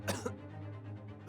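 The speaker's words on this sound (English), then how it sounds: "he's just gonna keep on coughing." A character in The Great Ace Attorney Chronicles video game gives two quick, close coughs at the start, followed by a low steady hum of background music.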